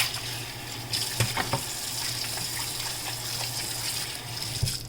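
Running water rinses out a kitchen sink, a steady wash of splashing flow with a few brief clinks, close and fairly even throughout.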